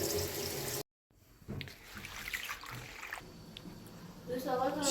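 Food being washed under running water from a tap, with a steady splashing trickle broken by one short silent gap and louder bursts near the end, while people talk in the background.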